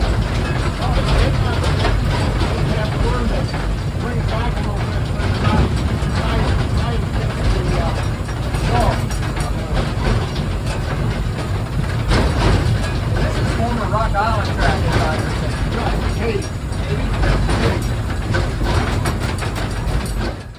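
A real steam locomotive working along the track with the cylinders given just enough steam to hold momentum, a steady loud mechanical rumble and clanking running throughout with voices talking over it.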